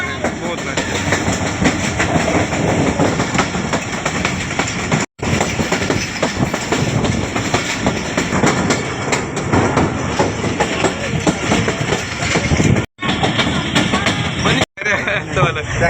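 A crowded passenger train at Golra railway station rumbles close and loud with continuous clattering wheels and carriage noise, a few brief dropouts, and voices mixed into the din.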